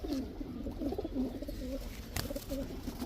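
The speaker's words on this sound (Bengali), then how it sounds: "এতগুলা কবুতর আছে, আরো কবুতর আছে" Gola and chila high-flyer pigeons in a loft coo in repeated low, throaty phrases close by, several birds overlapping, with one sharp knock partway through.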